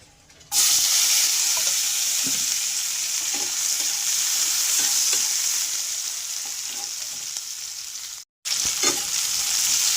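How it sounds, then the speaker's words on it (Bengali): A steady, loud sizzle of chopped onions frying in a hot pan, with occasional scraping stirs and a brief break near the end. "একটু নেড়ে ভাজা ভাজা করে নিলে এর ভিতরে দিয়ে দেব আমি পেঁয়াজ কুচানো"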